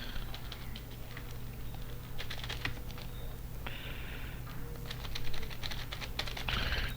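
Rapid, light clicks of fingers typing on a computer keyboard while entering headings in an Excel spreadsheet, irregular taps and bursts against a low room hum, with no voices.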